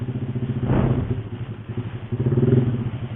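Honda Revo motorcycle with a BRT Type S1 camshaft on a test ride, its engine pulsing and rising in rapid throbbing bursts, close and loud, with a brief whoosh partway through.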